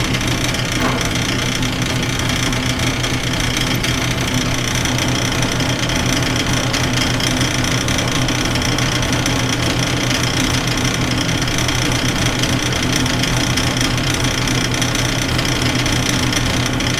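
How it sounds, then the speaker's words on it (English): A pilot hole is drilled into a steel shift rail for a Minneapolis-Moline 445 prototype tractor, producing a loud, unbroken mechanical grinding drone close by for the whole stretch. "Going plenty conservative on this pilot hole,"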